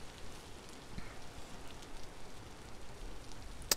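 Rain in the game Vintage Story falls as a steady, soft patter on surfaces, a faint, even hiss with scattered drips and no voices.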